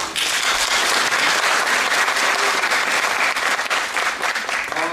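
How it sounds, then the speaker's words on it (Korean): An audience at a local-government talk concert in a hall bursts into sustained, dense applause, loud and even throughout, with no talking over it. "박수 주십시오"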